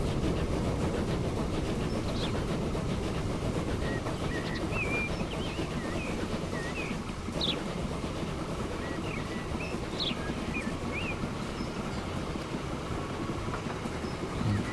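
Iron ore freight train rolling along in the game Transport Fever, a steady, fairly quiet rumble of wheels on track with faint chirping birds over it, no talk.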